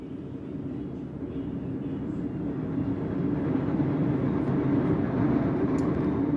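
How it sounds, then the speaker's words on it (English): A train passes somewhere outside, a steady low rumble that swells slightly and holds through the stretch, moderately distant, with no talking over it. "cheers if you hear that train"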